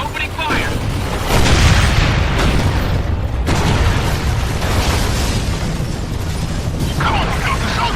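Heavy booming cannon fire from the Centaur tank in the video game Gears of War, loud sustained blasts and rumbling explosions, with voices talking over the din.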